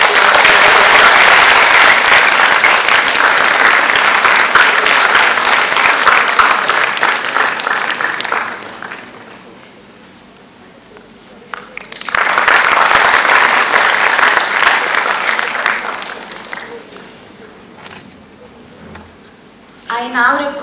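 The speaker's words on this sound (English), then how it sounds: "I would request the audience to give a huge round of applause." Audience at an inaugural session breaks into loud, dense applause that runs for several seconds, dies to near quiet, then swells into a second long round before tapering off again.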